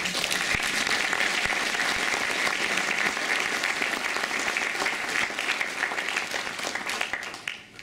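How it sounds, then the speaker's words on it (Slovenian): A crowd of parents and staff at a 2017 New Year's school performance gives sustained, even applause that only starts to fade in the final moment. "Lahko si tudi zaploskamo."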